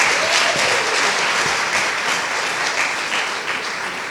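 An audience at a hopeful speech to women breaks into sustained, dense clapping, loud and steady across the whole stretch, slowly easing toward the end.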